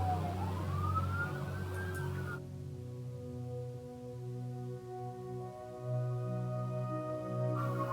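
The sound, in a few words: fire engine siren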